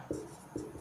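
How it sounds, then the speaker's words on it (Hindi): A marker or chalk scratches across a classroom board during a chemistry lecture: two short, distinct writing strokes about half a second apart, close and clear, with no talking. "मैं यहाँ पर लिख रहा हूँ"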